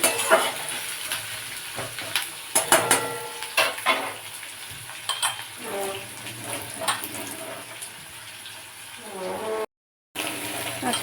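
Onions frying in a pan for a chicken dish, a steady sizzle with scattered crackles and stirring clatter, moderately close, with a brief dropout near the end.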